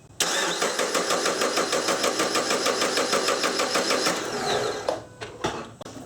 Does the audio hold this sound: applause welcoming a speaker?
no